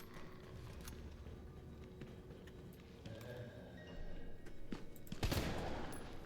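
Gunfire in Resident Evil 3, a string of sharp game shots over a steady background, growing louder toward the end with one strong blast near the close.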